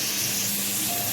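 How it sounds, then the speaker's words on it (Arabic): Water boiling in a pot for simmering a free-range chicken with tomato, onion, bay leaf, cardamom and carrot gives a brief, dense, steady hiss and bubbling, close and fairly loud. "الميه تغلي عشان نسلق الفرخه البلدي بتاعتنا"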